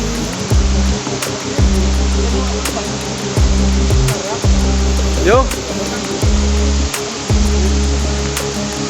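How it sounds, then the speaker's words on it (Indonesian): A continuous rushing of water pours from rock crevices in a hillside forest at the springs of the Logawa River, steady and close, with low thumps and a brief spoken word over it. "ada aliran air turun dari celah-celah bebatuan dari perbukitan di depan sana"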